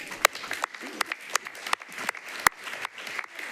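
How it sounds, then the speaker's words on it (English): Scattered, sparse hand clapping from a small audience at a Metro Council meeting, individual claps distinct and irregular, with one especially sharp clap near the end and quiet room noise between. "I think that deserves a hand clap"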